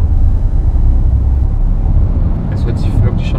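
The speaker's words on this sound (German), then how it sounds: "Es hört sich wirklich schon voll abgespaced an, wenn dieses Elektrogeräusch da so hoch summt." Audi e-tron Sportback electric car driving, a steady low road and motor rumble with a faint high electric hum, ending with a few soft higher sounds.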